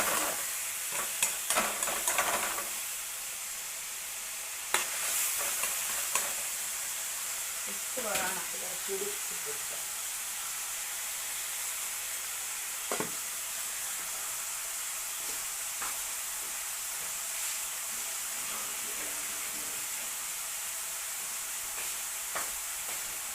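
Prawn curry ingredients, with tomato among them, sauté in a pan: a soft, steady frying hiss with an occasional stir or scrape, fairly faint and with no voices over it.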